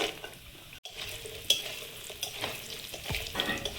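Lentil dumplings (bori) frying in hot oil give a soft, continuous sizzle, with scattered stirring scrapes and a brief pause near the start.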